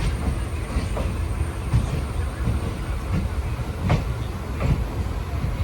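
An early-morning passenger train runs from Ernakulam Town to Chalakudy in Kerala. A steady rumble heard from inside the carriage is broken by periodic wheel clacks over rail joints.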